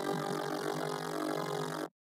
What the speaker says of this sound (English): So that's with a low speed tremolo.